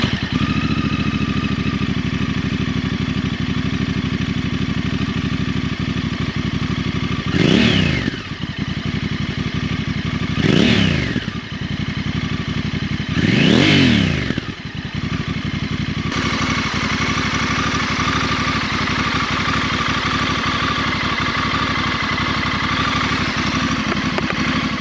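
A Honda Africa Twin with an SC Project exhaust idles with a steady mechanical clatter, then three sharp throttle blips rise and fall a few seconds apart before it settles back to a low idle.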